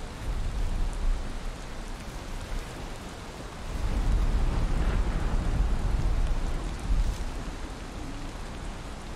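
Rain falls in the video game Valheim as a continuous hiss of droplets that swells louder partway through before easing back, a steady wash with no voices.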